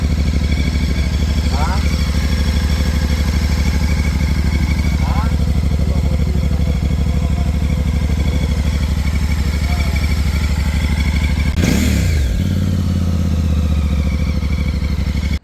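A Voge 800X Rally motorcycle idles steadily and loudly close by, its engine and large upward-angled muffler giving a constant throb, with a brief blip of revs near the end.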